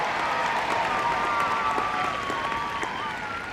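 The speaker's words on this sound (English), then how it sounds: "give this young boy a round of applause" Sustained applause from an audience at a 1982 team games competition, steady clapping with some crowd noise, loud and continuous, with a faint tonal whistle running underneath.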